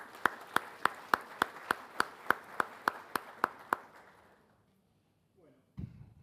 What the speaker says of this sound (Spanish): Y para él también le damos un aplauso de bienvenida a su exposición.